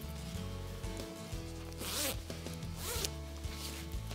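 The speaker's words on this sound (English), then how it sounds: "you can just zip that from the top down on both sides." The zipper of a Marmot Ramble Component Jacket is pulled in two short, rasping strokes, each under a second, close and clear over a steady tonal background.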